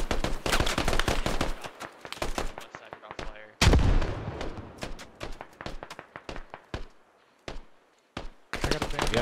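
A grenade blast and gunfire in the military shooter Squad: a sharp, heavy explosion amid scattered single shots and short bursts, some near and some distant, with quieter gaps between.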